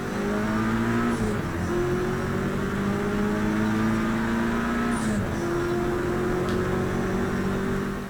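A race car engine in the racing game Project Cars 3 drones steadily up close, its pitch falling away as the car brakes around the middle, then settling lower.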